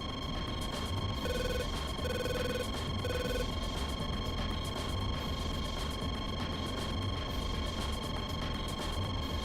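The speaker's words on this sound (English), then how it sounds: "There's a phone ringing in my cockpit." A telephone rings inside a DCS World flight simulator cockpit: three short electronic ring pulses in quick succession, set against a constant droning engine hum that continues alone afterward.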